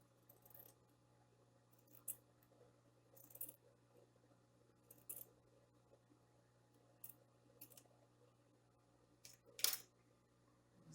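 Scissors snipping through fabric while cutting a dish towel with a striped border, heard as sparse, quiet, irregular snips and rustles over a steady low hum.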